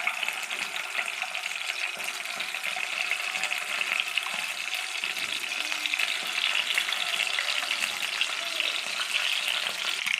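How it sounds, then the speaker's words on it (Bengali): Peeled hard-boiled eggs fry in hot oil in a pan, a dense, steady sizzle that holds evenly throughout at close range with no talking. "এবার ডিমগুলোকে আমি ভেজে নেব। ডিমগুলো দিয়ে দিলাম"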